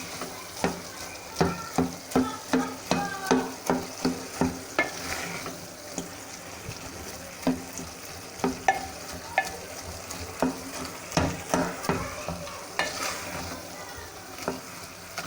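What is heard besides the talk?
cauliflower frying and being stirred in oil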